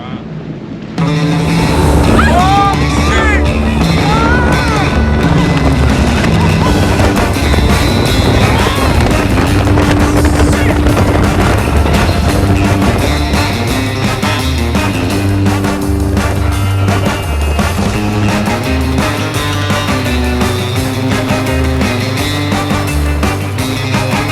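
A motor drones steadily while a small boat rides over water, with wind buffeting and splashing throughout, loud and close.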